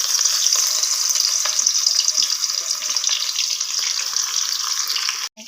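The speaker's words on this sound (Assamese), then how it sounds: "ধুনীয়াকৈ কেৰাহীটো গৰম হোৱাৰ পিছত পিঁয়াজখিনি ধুনীয়াকৈ দি দিছোঁ।" Onions fry in a hot kadai with a loud, even hiss of oil that holds steady close by and cuts off abruptly near the end.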